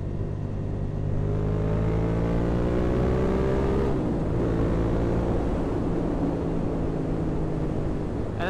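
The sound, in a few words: motorcycle with new exhaust revving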